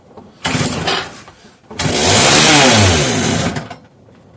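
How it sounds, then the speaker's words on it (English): Homelite 330 chainsaw, a junkyard find, sputters briefly, then fires up and revs loud and high for a couple of seconds before dropping off, close and alone. "Not only does it pop off, it revs out of control, even with the throttle all the way closed."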